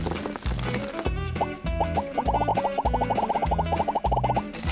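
Soda pours out in a fast run of bubbly glugs, loud and close, over a steady rhythmic musical beat.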